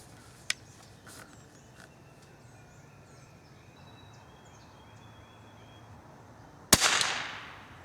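A single gunshot from standard velocity .22 ammunition fired at a 50-yard target, one sharp crack with a brief outdoor echo late in the clip, after a couple of faint clicks and quiet birdsong.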